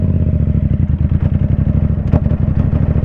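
A motorcycle engine running hard during wheelie tricks, a loud steady throbbing drone with a rapid pulsing beat and a brief clatter partway through.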